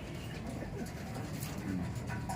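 Pigeons coo softly in low, throaty murmurs against a quiet background hum, with a couple of calls overlapping near the end.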